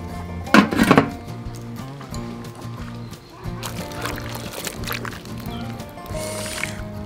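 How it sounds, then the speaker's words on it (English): Water poured into a cooking pot to boil bitter mushrooms at an outdoor forest cooking spot, a brief splashing gush early on, then softer trickles and clatter against a steady low hum. "Now I start to boil the water for cooking mushroom."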